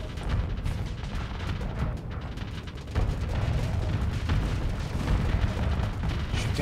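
Enemy ships firing shots in the space combat game Starsector, a dense run of deep booming blasts and rumbling impacts that keeps on without a break, no talk.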